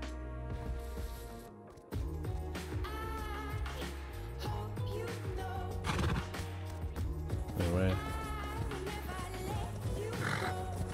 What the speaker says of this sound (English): Oh man, I just heard a horse.